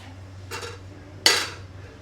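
A metal spoon clinking against dishes at a home meal, a soft scrape followed by one sharp bright clink, close up over a low steady hum.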